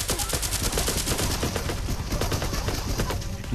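Rapid automatic gunfire from the VR shooter Larcenauts on Oculus Quest 2, a loud continuous stream of fast shots filling the whole stretch with no pauses.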